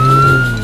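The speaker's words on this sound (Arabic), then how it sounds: "انظروا يا أطفال، هذه سيارة شرطة" Police car siren in an animated children's cartoon, a brief loud steady wailing tone heard alone.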